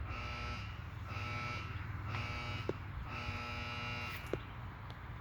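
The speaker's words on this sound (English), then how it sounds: "I get the 3 warning audible alarms" A high voltage training unit sounds three pulsed buzzer alarms, each a sustained electric buzz with brief gaps between them, fairly faint against a low background hum.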